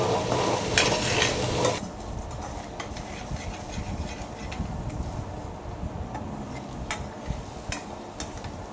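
Snake gourd sautéed in hot oil with salt, a steady sizzle running under repeated scraping stirs of a spoon against the pan, louder for the first two seconds and then settling into a continuous frying hiss.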